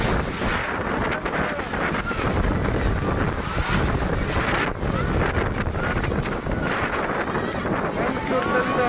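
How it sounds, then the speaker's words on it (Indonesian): Strong, gusty wind batters refugee tents in Majene, roaring continuously with heavy buffeting and flapping against the microphone while a voice talks over it. "Angin sangat kencang,"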